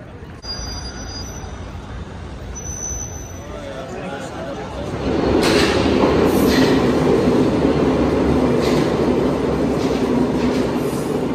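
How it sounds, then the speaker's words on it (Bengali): A metro train runs through an underground station in Lisbon, Portugal, starting as a hum and swelling into a loud, sustained rumble of wheels on rail with clatter and faint squeal. A voice talks over it. "আমরা আছি এখন পর্তুগাল লিসাবনের মেট্রো রেল স্টেশনের নিচে।"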